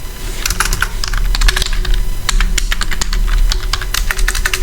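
Rapid, uneven clatter of keys being typed on a computer keyboard, close and loud, with bursts of keystrokes and brief pauses, no voices.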